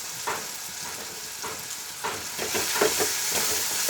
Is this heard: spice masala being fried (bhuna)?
yes